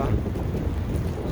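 Wind during a night snowstorm in downtown Chicago, a steady loud rush of gusts buffeting the microphone throughout a brief stretch, no clear voices.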